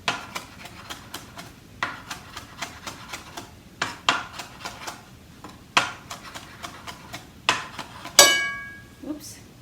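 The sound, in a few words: knife chopping on cutting board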